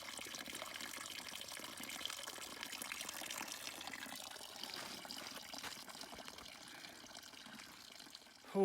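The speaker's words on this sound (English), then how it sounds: "a natural spring" Faint water from a natural spring trickles and gurgles continuously, a soft steady flow heard at a distance in the Colorado backcountry, with a brief louder bump right at the end.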